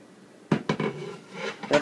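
Pots and utensils clatter while rice is layered for a spicy Hyderabadi dum mutton biryani, a few sharp knocks close together followed by softer scraping and a final clink, with no talking.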